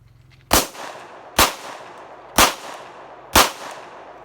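A .22LR pistol fires four sharp shots, spaced about a second apart, loud and close, each one followed by a short ringing decay.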